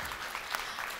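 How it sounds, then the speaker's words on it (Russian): Brisk applause from a festival audience at a children's animation event, a dense, even patter of many hands lasting about a second, with no voices on top. "Ваши аплодисменты"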